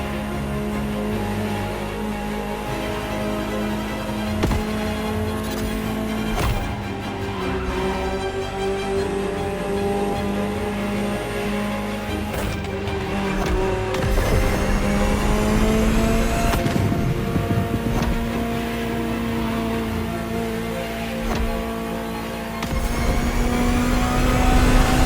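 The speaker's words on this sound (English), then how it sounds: "Just listen to the car you're driving." A Ferrari supercar engine in the video game The Crew Motorfest, droning loudly and continuously as it revs and shifts, with rising and falling tones and a few sharp gearchange pops, heard close without talk.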